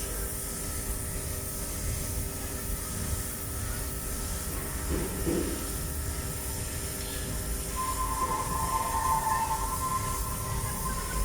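An LRT light rail train rumbles past overhead at a distance near Baclaran Church, a steady low mechanical hum with faint tonal whines and a brief higher squeal toward the end.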